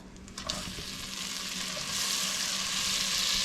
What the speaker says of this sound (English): So, we're going to melt the butter.